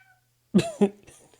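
A cat meows at an open window, giving two short, fairly close calls with a softer trailing sound after them.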